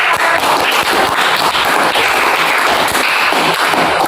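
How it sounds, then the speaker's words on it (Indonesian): A classroom group gives a round of applause, dense and steady clapping from many hands filling the whole moment at close range. "Selanjutnya silakan memberikan tepuk tangan"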